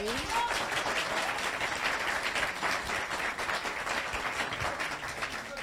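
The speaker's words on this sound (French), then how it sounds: "on applaudit, on applaudit" Audience at a Caribbean Christmas costume contest breaking into sustained, dense applause, a steady wash of many hands clapping throughout with faint voices mixed in.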